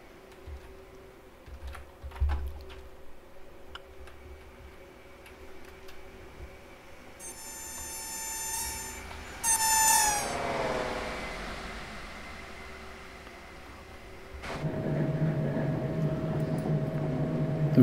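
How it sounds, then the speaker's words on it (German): A train passing by in Train Sim World 4 near Ulaborn, a fading rumble, then a rising metallic whine and rush as it goes past, followed by a steady low hum from the driver's cab of a BR 628 railcar. "Aber wir können mal den Zug an uns vorbeifahren lassen."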